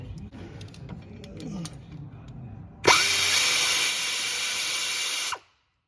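A power tool spins off a small 10mm bolt on a Hemi engine with a misfire, a loud whirring burst of about two and a half seconds after quieter clicks and handling noises, then stopping abruptly.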